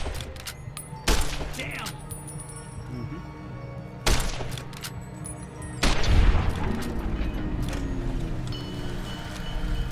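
Enemy gunfire in Fallout: New Vegas, three sharp loud bursts spaced a few seconds apart with a rattling tail after the last, close by; a man mutters a brief word between them.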